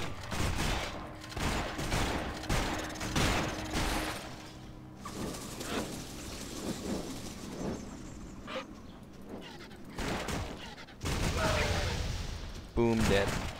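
Skraw homes blow up in the video game Torchlight 2 with repeated booming blasts in rapid irregular bursts, layered over busy combat noise throughout.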